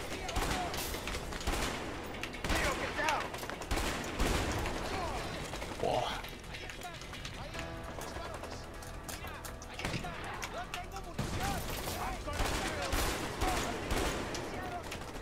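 Gunfire in the co-op video game A Way Out: repeated shots and rapid bursts, with some heavier booms, run throughout while someone talks over the action.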